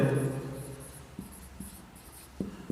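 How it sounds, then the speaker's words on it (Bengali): Handwriting during a lesson on share capital accounts, heard as soft scratchy pen or chalk strokes tapping out irregularly after a brief voice at the start. "এখানে আমরা একটু লিখি"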